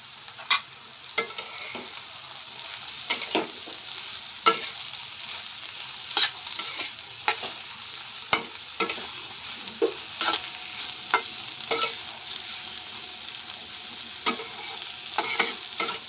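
Bitter gourd with fresh coriander fries in a pan, a soft continuous sizzle broken by repeated sharp scraping strokes of a spoon stirring at an irregular pace.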